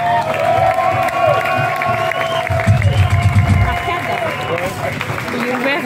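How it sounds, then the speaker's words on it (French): A crowd at a death metal concert in a small club claps and cheers continuously, with whoops and shouts mixed in and a voice talking over the noise. "c'est que vous applaudissiez très très fort"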